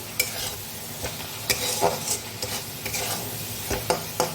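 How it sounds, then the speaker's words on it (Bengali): Ground cumin, coriander, chilli and turmeric are stirred into hot oil in a pan, a close sizzle broken by repeated scraping strokes of a spoon in an uneven rhythm, with no voices. "মিশিয়ে নেব যতক্ষণ না এর থেকে তেল ছেড়ে আসছে।"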